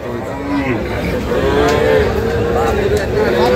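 A Deshal breed dairy cow moos with a long, low drawn-out call, close by, over a noisy outdoor cattle market background of livestock and crowd murmur at Kaharol.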